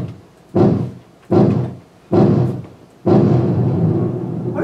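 Four heavy low thunder rumbles roll in one after another as a storm effect in a comedy radio play, each swelling and fading, with the last one sustained.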